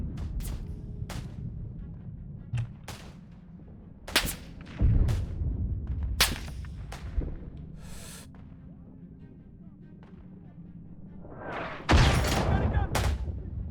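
Gunfire in the WWI shooter Isonzo on a snowy Marmolada mountain map: scattered sharp rifle shots and distant bursts crack over a rumbling battlefield bed, with a loud close volley near the end and a player talking at times.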